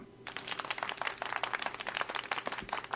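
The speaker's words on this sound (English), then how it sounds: "So now we've got some polite applause in there." Polite applause sound effect from the Bossjock app: light, scattered clapping from a modest group, fairly quiet and even, with individual claps distinct rather than a roaring wash.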